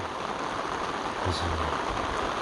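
Rain falls steadily on a rainy day in the Gangwon countryside, a soft even hiss with a faint low thump partway through.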